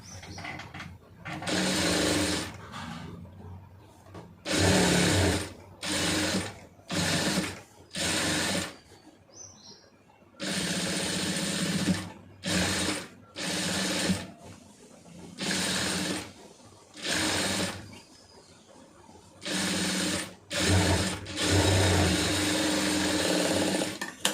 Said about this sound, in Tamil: அந்த பீஸ் அளவு வச்சுட்டு ஒரு கால் இன்ச்சுக்கு தையல் போட்டுருங்க